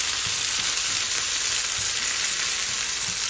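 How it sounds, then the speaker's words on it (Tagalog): Tomatoes sauté in a hot pan for ginisang ampalaya, giving a steady, close, continuous sizzle with faint stirring underneath and no voices. "pwede na rin yung ginisa ko na ng konti yung kamatis"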